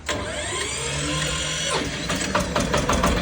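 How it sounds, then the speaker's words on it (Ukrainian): Engine of a Shifeng 244 belt-driven tractor turning over and catching, a steady droning whine that breaks into an uneven running rumble with knocking pulses, loud and close. "Давай заведемо його, щоб послухали, як заводиться"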